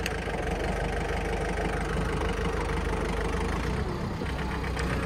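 A 2006 John Deere 4720 compact tractor with 1,400 hours runs steadily at close range, its engine holding a continuous loud idle with a slight dip in load near the end.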